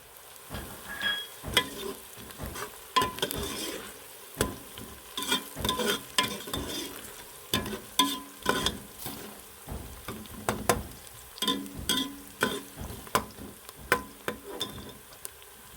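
Crushed white cumin fries in oil for Lahori chana while a spoon stirs and scrapes the pan in quick repeated strokes, a rhythmic series of loud close scrapes over a low sizzle, with no talking.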